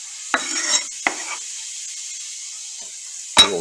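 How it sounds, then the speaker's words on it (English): Onion frying in olive oil in a pan for sweet pork pepper rice, giving a steady high hiss throughout, broken by a few clinks of a utensil against the pan. "A little sizzle going there."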